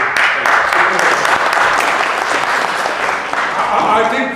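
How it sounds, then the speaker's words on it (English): Loud, sustained audience applause at a community gathering, dense clapping from many hands that holds steady throughout and eases slightly toward the end. "you can give a good clap to every speaker when they speak"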